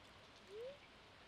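Soft, steady patter of green rain falling in Stardew Valley, a quiet continuous wash of drops with a faint rising tone briefly gliding through the middle, no voices.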